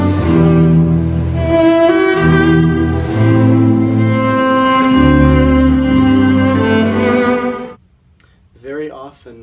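A viola bowed between the fingerboard and the bridge with vibrato produces a full, resonant sustained tone that shifts through several held notes, close and loud, then cuts off as a voice briefly speaks at the end.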